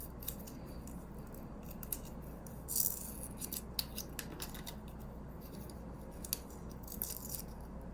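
A dog treat package for a Pomeranian is torn and cut open, giving a short crinkly ripping burst near the middle followed by scattered small plastic rustles and snips, close and moderately loud over steady room noise.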